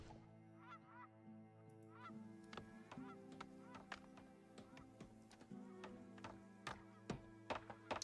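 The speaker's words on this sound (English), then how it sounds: "The geese are flying south." Geese honking as they fly south in the survival city-building game Farthest Frontier, repeated sharp honks in an irregular rhythm over a steady droning ambient background, fairly close and clear.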